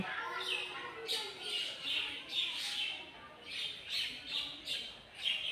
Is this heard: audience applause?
no